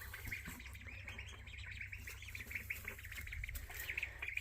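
Faint, high peeping and chirping from baby ducklings feeding on slugs outdoors, continuous soft calls over a low background rumble.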